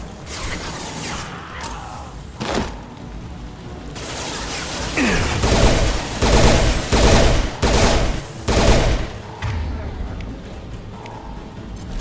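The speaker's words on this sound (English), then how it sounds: "Firing an impact shot!" Gunfire and impact shots in the sci-fi shooter Mass Effect 2, loud blasts and bursts landing in clusters over steady game noise and music, with spoken voices.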